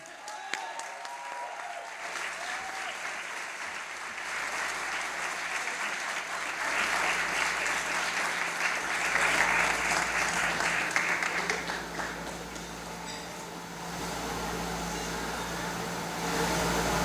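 Warm, sustained applause from an audience in a hall welcoming Rosa María Payá to receive an award, steady and full for most of the stretch before tapering slightly near the end.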